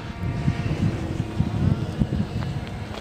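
Motor of a Peace Drone flying model with a gyro, droning steadily through buffeting wind noise on the microphone, loud and close, with no talk.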